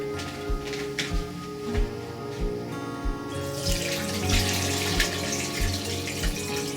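Homemade elderflower champagne being strained and poured, a continuous splashing trickle of liquid with soft rhythmic knocks and a brighter rush of pouring in the second half, over a low steady background tone.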